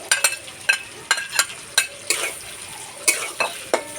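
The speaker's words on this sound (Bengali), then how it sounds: "এই ভাজা সবজিগুলো আমি একসঙ্গে মিশিয়ে নেব।" A spoon scrapes and tosses fried vegetables for veg fried rice around a pan in about a dozen quick, uneven strokes, each with a soft sizzle, close and fairly quiet.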